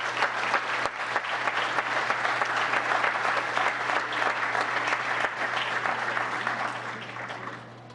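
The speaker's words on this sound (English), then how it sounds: "if you could join me in a big round of applause" Sustained applause from the audience at a town council meeting, a steady wash of clapping hands lasting several seconds before tapering off at the end.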